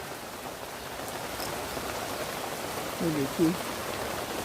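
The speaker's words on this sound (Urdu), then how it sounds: "ہاں بارش تیز ہو گئی ہے" Steady rain falls during an outdoor walk, a broad continuous hiss with a few faint bird chirps near the end while someone speaks briefly.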